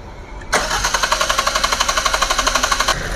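A Swift car's engine fires up abruptly during a workshop service with body-spray cleaning, then runs with a loud, steady, rhythmic pulsing close by, without talk.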